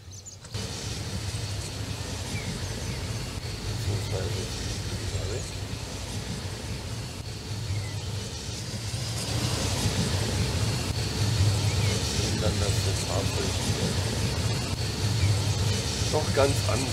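A car rolls along a country road at about 100 km/h in the EEP16 train simulator, giving a steady, close engine and tyre drone that swells slightly in the second half, with voices talking over it.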